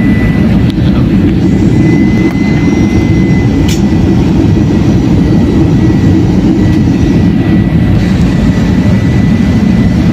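Airplane cabin engine roar during descent toward landing in rain, a loud, constant low rumble that fills the whole stretch with no break, faint higher whine above it.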